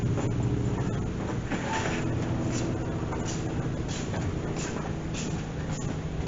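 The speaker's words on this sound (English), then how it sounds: "Biplane, yeah, crop duster. Yeah, the crop duster just run past." A biplane crop duster passes overhead, a steady broadband engine drone holding loud and continuous throughout with a gusty, windy texture, heard from a workshop setting.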